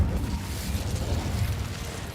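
The Incendio fire spell is cast in Hogwarts Legacy, a roaring, crackling burst of flame with a low, rumbling body that holds steady for about two seconds.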